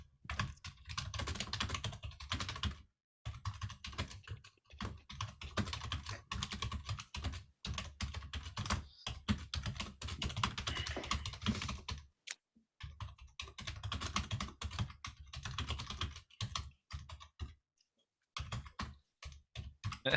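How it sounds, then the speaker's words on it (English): Steady typing on a mechanical keyboard with black switches, a dense run of clicky keystrokes in bursts separated by short pauses, close and clear with no talking. "Is it a mechanical keyboard?"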